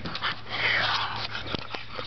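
Junkyard dogs make a short, close burst of sniffing and snuffling with a brief whimper, heard alone over a low background hum.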